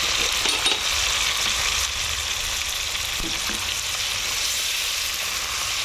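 Prawns frying in hot oil with salt, turmeric and chilli, a loud close sizzle that holds steady for the whole stretch, with light stirring and scraping under it.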